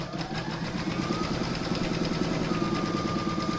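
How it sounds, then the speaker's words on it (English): A sewing machine runs steadily and quickly as it stitches round a fabric canning jar cover, a continuous close mechanical whir with a rapid needle rhythm and no talk. "I'm now going to pop that back into my machine and stitch round number 8"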